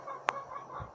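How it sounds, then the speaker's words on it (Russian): Chickens clucking nearby around a foam-insulated building, a sharp loud cluck followed by softer ongoing clucks and low murmuring, with no talk. "Вон они кудахтают."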